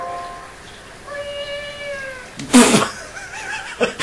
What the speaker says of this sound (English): Link turns to be a cat.